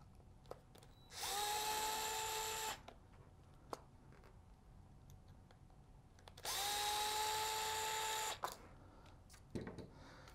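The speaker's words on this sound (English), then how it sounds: "So let's go ahead and remove those screws." A power drill removes the mount screws of a speed controller during a radio transmitter upgrade. Two long, steady whirring bursts rise and hold, each a couple of seconds, with faint clicks and handling knocks between them.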